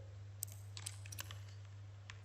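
A computer keyboard is used to press Ctrl+E, giving a scattered series of light, crisp key clicks, close and quiet over a steady low hum.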